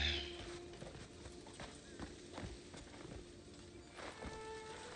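Horse hooves clip-clop in a video game, a quiet, uneven series of hoof steps with a faint tonal hum beneath, moderately close and alone.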